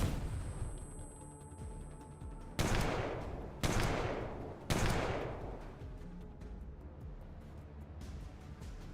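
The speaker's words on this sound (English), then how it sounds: "Surprise flashbang." Gunfire and a flashbang go off in a video game as three sharp, loud bursts about a second apart, each fading into a decaying rumble.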